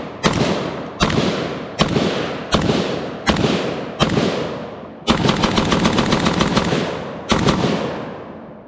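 CZ Bren 2S carbine fired outdoors, with six loud, sharp single shots at a steady pace, then a rapid string of fast shots and one final report, each crack trailing off quickly.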